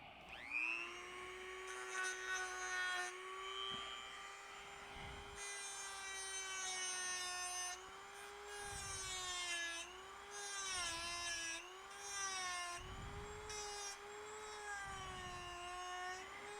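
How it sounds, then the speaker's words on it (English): A power grinder flattening a cut bolt end on a Tucker XL wingtip build, whining steadily at high pitch that dips and rises as the tool bears on the metal, with scraping bursts over roughly sixteen seconds and nobody talking. "And grind the bolt flat."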